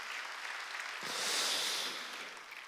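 Congregation clapping during a Wednesday worship service at a church, a brief, fairly soft burst of massed applause that swells in the middle and then eases off.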